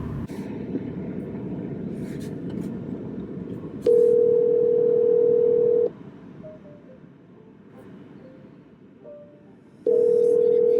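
An outgoing phone call rings through the handset: after a few seconds of background noise, two long, steady, loud ringback tones sound, separated by a quieter pause.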